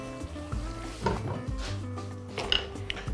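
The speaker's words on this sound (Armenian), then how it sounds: "Ծածկում ենք կափարիչով։" A lid is set on a pot of chicken wings in sauce, giving a few close metallic clinks and knocks over a low sizzle from the pot.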